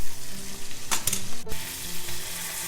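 Kangaroo burger patties sizzle in a pan, a close, steady fry crackle with a few sharper pops and a scrape or press partway through, no talking.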